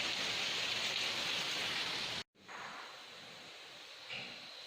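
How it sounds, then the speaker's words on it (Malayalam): Steady rain falling during monsoon floods in Kerala, a soft, even hiss of drops on surfaces that cuts out abruptly midway, then resumes quieter and thinner, with a faint swell near the end. "ഈ മഴ കാരണം പുറത്തിറങ്ങാൻ പറ്റില്ല"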